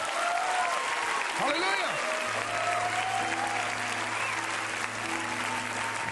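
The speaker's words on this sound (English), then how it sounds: "Let's give the Lord a big hand clap." A church congregation claps for the Lord in a soft, distant, steady patter, with someone calling out over the clapping and a sustained tone humming underneath.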